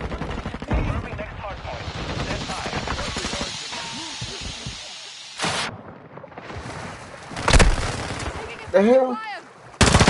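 Rapid bursts of gunfire from the shooter game Call of Duty: Modern Warfare 2, played in third person, crackle loudly and nearly continuously, with sharp louder shots near the end and a voice briefly exclaiming over the action.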